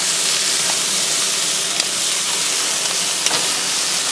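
Tomahawk pork chops sear in a hot pan with a steady, close, even sizzle and hiss that runs unbroken throughout.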